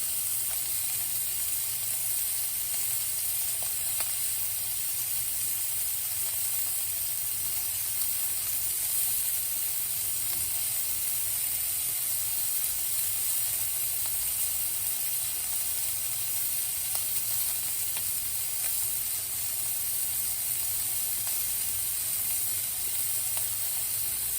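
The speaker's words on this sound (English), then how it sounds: "add in your butter, grab a spoon, and start slowly basting it" A steak sizzles steadily in a hot pan while being basted with butter, giving a constant bright hiss and crackle at moderate level throughout, with no talking.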